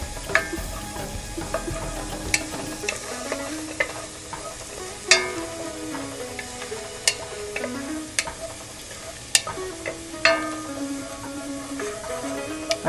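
Spoon stirring food sizzling in a pan before minced meat goes in for a Turkish Ali Nazik kebab, with steady close sizzling and repeated sharp scrapes and clinks against the pan.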